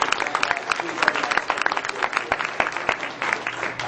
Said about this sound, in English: let's give Mr. Brian Urbanski a big round of applause